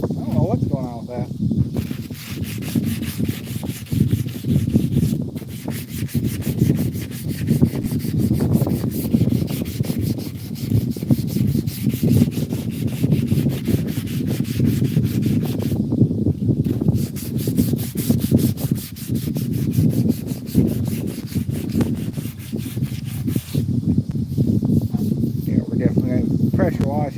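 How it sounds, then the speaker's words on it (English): Someone sands a 70-year-old Craftsman mower by hand, with steady back-and-forth rubbing strokes close up that run continuously with short pauses and a person talking over them. "I'll sand down what I can"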